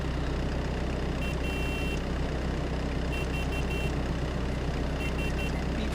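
Reversing beeper on a farm vehicle in Farming Simulator 22, repeating in steady short bursts over a constant low engine drone, with no one talking.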